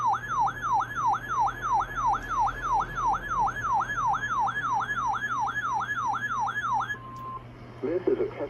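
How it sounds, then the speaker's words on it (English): Emergency Alert System weekly test warning alarm on a weather radio: a loud, steady warbling two-tone attention signal repeating rapidly, then cutting off abruptly before a brief, fainter sound follows. "This is a test of the emergency alert system and your weather radio's warning alarm."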